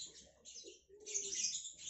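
A wild-caught Papuan pitohui (golden cucak) calls in a run of bright, high chirps and whistles, close and fairly loud, with a brief lower note in the middle.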